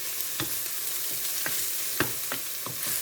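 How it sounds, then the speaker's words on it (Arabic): Onions sizzle softly in a pan for stuffed fennel, a steady faint crackle broken by several spoon scrapes as they are stirred, no voices. "درت غير بصل، راني نحمر فيه"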